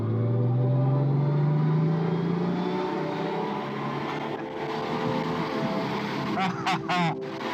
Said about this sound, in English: all types of progress are just incredibly, effortlessly smooth because it is a 6-cylinder engine